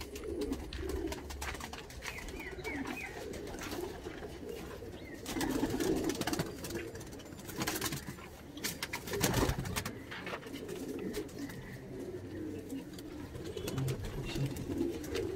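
Andhra high flying pigeons coo steadily inside a loft, a continuous overlapping chorus of low throaty calls from several birds, fairly close, with occasional brief rustles and flutters.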